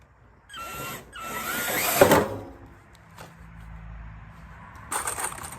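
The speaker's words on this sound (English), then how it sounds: "so we're just going to screw that in" A power drill drives screws into a 2x4 on a greenhouse frame, with two short whirring bursts close by followed by a third brief run and quieter handling noise in between.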